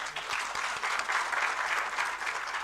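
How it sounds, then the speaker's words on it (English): An audience at an agricultural industry meet applauds, giving a dense, even wash of many hands clapping at moderate distance, steady and unbroken for a few seconds. "I request to have a good clap for us"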